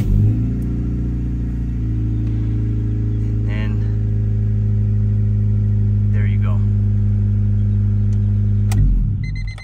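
A car engine idles with a steady low rumble throughout, a couple of brief faint chirps above it, then cuts off near the end.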